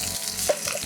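Rempah spice paste fries with lemongrass and kaffir lime leaves while sambal satay is being made, giving a brief, steady close sizzle with a small stirring clack partway through.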